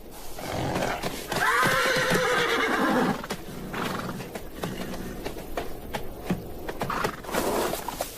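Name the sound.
wild horses neighing and hoof clip-clop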